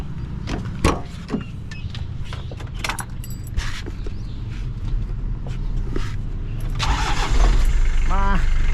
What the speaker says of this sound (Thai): มาฟังเสียงเครื่องกันดีกว่าครับ